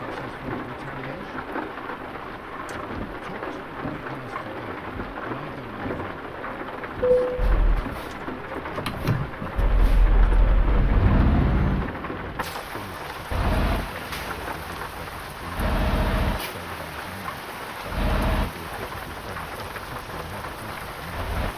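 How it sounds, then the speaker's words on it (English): Steady rain pours down inside a truck in Euro Truck Simulator 2, a dense hiss with low rumbles of thunder swelling in several heavy bursts. "Oh, rain's on."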